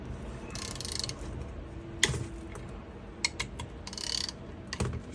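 Ratchet clicking as it loosens the turbo compressor bolts (5/16 or 8mm socket) on a 7.3 Powerstroke, OBS Ford: soft, irregular ratcheting clicks and mechanical ticks in short bursts, close by, with no talking.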